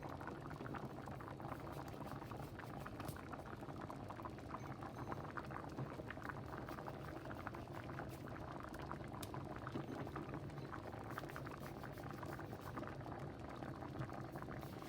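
Stew peas and small dumplings boil in a pot, a steady, continuous bubbling and gurgling that stays even and fairly quiet throughout.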